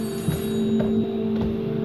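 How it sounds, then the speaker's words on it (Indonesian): Electronic telephone ring in the horror video game 3D Kimodameshi, a steady droning tone with faint pulsing repeats over a low hum, heard alone without talk. "Ada bunyi telepon, guys. Ada telepon."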